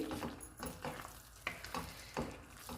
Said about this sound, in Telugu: ఈ ఉల్లిపాయ ముక్కలు ఎక్కువ వేయించనక్కర్లేదండి. లైట్గా వేయించితే సరిపోతుంది.